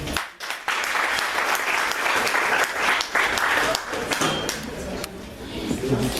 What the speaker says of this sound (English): Can we clap hands for Sister Anna again?